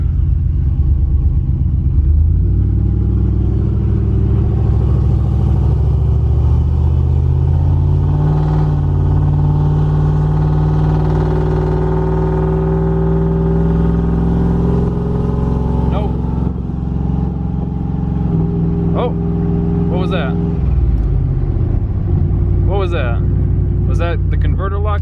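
Cadillac Coupe De Ville with a 6.0 LS swap driving, a deep rumbling V8 heard from inside with engine tones rising and falling through shifts and acceleration, steady and loud, with a person talking over it.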